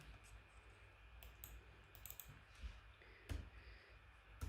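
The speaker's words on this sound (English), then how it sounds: "let's just type it out" Rapid light tapping on a computer keyboard, heard faintly and up close in bursts of keystrokes with brief pauses between them, and no talking.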